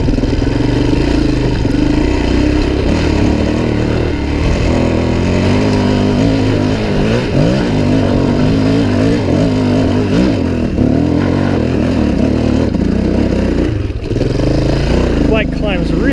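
Suzuki DRZ400e dirt bike engine pulling steadily up a hill, a continuous loud mid-pitched drone with shifting throttle and a few wavering revs, wind and rider talk mixed over it.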